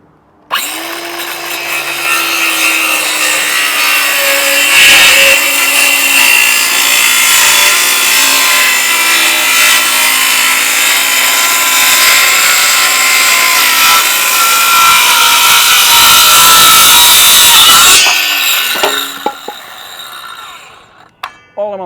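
A battery-powered Ryobi saw cuts through pressure-treated wood decking for a log cabin base. It runs loud and close in one continuous whining cut for about eighteen seconds, then winds down to some quieter clatter.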